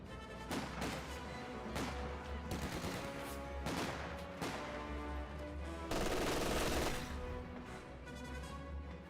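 Sustained MG42 machine-gun fire in Company of Heroes 2, dense bursts of rapid gunfire with distant explosions and battle noise, loud and continuous with a brief heavier volley near the end.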